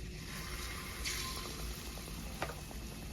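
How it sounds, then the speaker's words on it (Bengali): Sweet ripe-mango pitha batter dropped into well-heated oil, frying with a steady, faint sizzle and bubbling. A brief hiss swells partway through and a small crackle pops near the end. "এখন দিয়েছি পিঠার ব্যাটার।"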